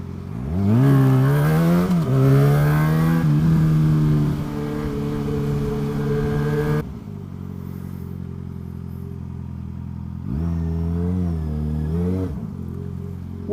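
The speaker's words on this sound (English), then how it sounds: "Go on, big lorry, do your thing" A big lorry drives past on the road, its heavy engine droning and shifting pitch as it labours by, then fading before another rising engine note, loud and close with no talk.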